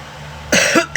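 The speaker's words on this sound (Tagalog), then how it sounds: "Inaantok na ako, inuubo pa ako." A single person coughs twice in quick succession, close and fairly loud, over a quiet room hum.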